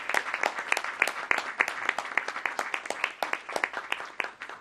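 Applause from a small audience at a community oversight board meeting, welcoming a new executive director; a modest group claps steadily, the sharp individual claps clearly separated and fairly close, with no talking.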